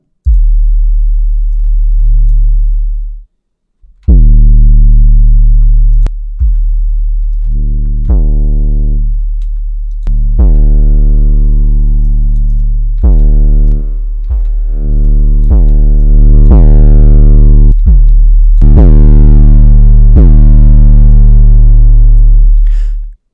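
Synthesized 808 trap bass with distortion, loud and alone: a series of deep sustained bass notes with gliding pitch, each struck anew in an irregular rhythm, with a short gap near the start.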